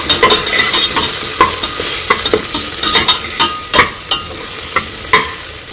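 Potatoes with coriander-cumin powder, turmeric and salt being stirred in a frying pan, a loud close sizzle under a quick series of clattering spoon scrapes, with no voices.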